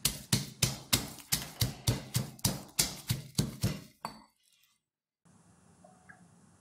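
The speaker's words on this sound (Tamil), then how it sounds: "வதக்கிறதுக்கு முன்னாடி இந்த பூண்டை கொஞ்சம் செதைச்சிக்கலாம்." Unpeeled garlic cloves are crushed with about a dozen loud, evenly spaced pounding thuds in quick rhythm. The blows stop abruptly, followed by near silence and then a faint low background.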